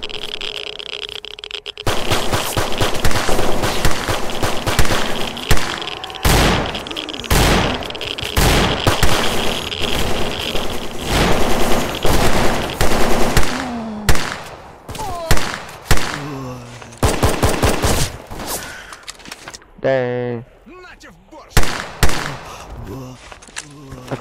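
Loud weapon fire in the S.T.A.L.K.E.R. Anomaly shooter game, starting as a dense full-auto burst and shifting to spaced single shots with sharp bangs and echoing tails, with a voice talking between shots.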